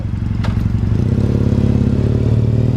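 A Ducati Panigale V2 engine runs close and loud, a steady rumbling idle that deepens into a throbbing, rising rev with a brief sharp click near the start.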